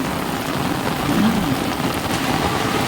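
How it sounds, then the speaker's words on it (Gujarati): Heavy monsoon rain pours steadily in a loud, dense wash with a faint low rumble that may be distant thunder, no voices present. "પાછળ જુઓ ફૂલ વરસાદ ચાલુ છે"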